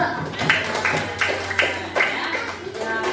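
An elementary school class claps for a student group in a classroom. Scattered, uneven clapping comes in bursts, with some children's voices underneath.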